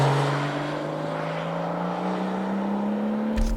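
BMW M760Li xDrive 2017 V12 with sport-mode exhaust flaps open, a steady droning engine note heard from inside the cabin, its pitch rising slowly and evenly before cutting off abruptly at the end.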